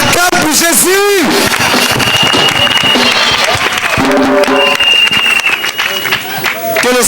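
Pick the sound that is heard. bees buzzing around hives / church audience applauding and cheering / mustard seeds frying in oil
church audience applauding and cheering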